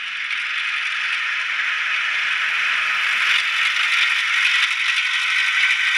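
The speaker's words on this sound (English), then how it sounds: "I think this is a Baldwin locomotive cranking up here." A model Baldwin locomotive's DCC sound decoder runs its diesel engine sound, a steady buzzing, rattling drone that holds at an even level through the short stretch with no talk.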